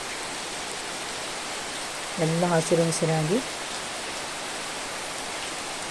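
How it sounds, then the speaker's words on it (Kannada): Heavy monsoon rain falls in a continuous, even hiss, flooding the yard around a house. A person speaks briefly over the downpour midway through. "ಈ ರೀತಿ ದೊಡ್ಡದಾಗಿ ಮಳೆ ಅಂಗಳದಲ್ಲೆಲ್ಲ ನೀರು ಮನೆಯ ಸುತ್ತಮುತ್ತಲೆಲ್ಲ ನೀರು"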